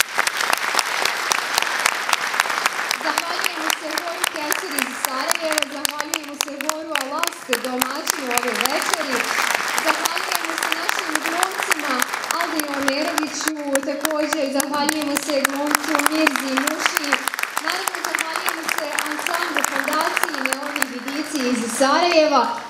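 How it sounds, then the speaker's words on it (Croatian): Sustained, loud audience applause fills the hall at a choir concert by the Kewser choir, a dense steady clatter of many hands with voices faintly underneath. "Podržimo svakoga pojedinačno aplauzom"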